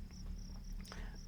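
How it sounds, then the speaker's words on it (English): Crickets chirp steadily at night out in open hills, a continuous high trill held through the whole stretch with faint low rumble beneath and no voices. "there's nothing but the sound of the crickets out here"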